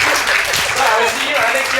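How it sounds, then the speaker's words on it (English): A conference audience claps together, a short, dense wash of applause with voices mixed in. "give a big clap"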